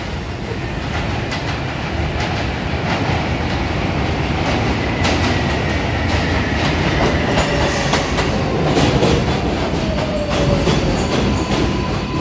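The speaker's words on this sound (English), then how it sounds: "There is a Manhattan bound local 4 train to Woodlawn. Approaching the station" A Manhattan-bound R142A 4 train arrives at Sutter Avenue–Rutland Road subway station, rumbling loudly and steadily nearby, wheels clattering over rail joints with occasional faint squeals, no voices.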